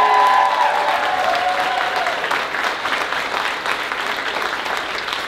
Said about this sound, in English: Make some noise for Jim Gaffigan one more time